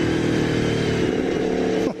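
A 2016 Aprilia V4 Tuono 1100RR motorcycle engine holds a loud, steady droning growl with dense harmonics, then drops in pitch as the revs fall away at the very end, with no talk over it.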